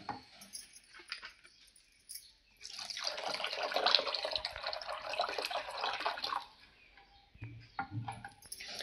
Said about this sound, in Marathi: थंड पाणी टाकत आहे।